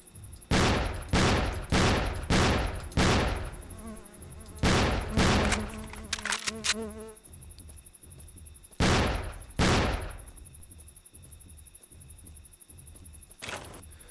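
Gunfire in the dinosaur-hunting video game Jurassic Park Hunter Legends, with a fast string of sharp shots, a pause, a second pair and one later shot, over a steady high insect-like whine.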